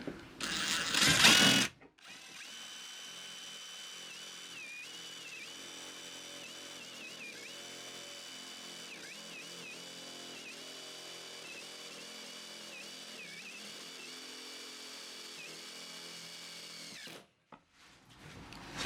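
A steady, high-pitched motor whine runs for over ten seconds as a self-drilling screw bores into sheet metal, preceded by a brief harsh burst of noise.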